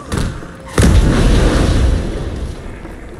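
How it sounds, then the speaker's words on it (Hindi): A C4 charge detonating in the video game Ghost Recon Breakpoint gives a single loud, close boom with a sharp onset, then a broad rumbling roar that slowly fades over a few seconds. "अभी ब्लास्ट होगा, धमाका होगा"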